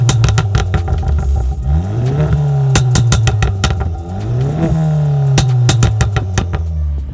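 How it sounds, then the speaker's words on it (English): A tuned Skoda of roughly 315 horsepower with an aftermarket exhaust revs up and down in repeated sweeps, and sharp pops and bangs crackle loudly and close between and after each rev. "There are pops and bangs."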